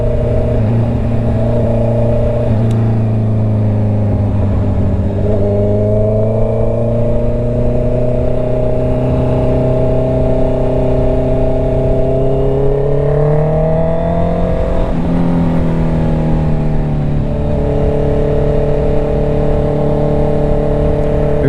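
A car drives fast along winding country roads, its engine loud and close throughout, climbing in pitch as it accelerates, easing off briefly at each gear change, then pulling hard again.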